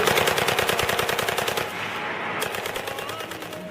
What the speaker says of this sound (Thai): จู่ๆก็มีเสียงปืนกลอากาศดังขึ้นสองชุด